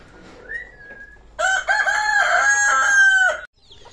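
A heavy, pure country-breed rooster from Latur crows once, loud and close. The long, drawn-out call rises and holds before breaking off, and a brief softer note comes just before it. Nobody speaks.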